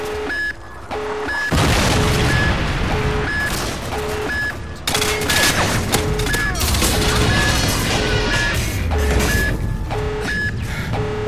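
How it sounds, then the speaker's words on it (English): A predator missile strike in Call of Duty: Modern Warfare 2 during a team deathmatch bursts into a loud, dense crash of explosions and gunfire, with repeated electronic beeps running through the chaos. "friendly predator missile inbound."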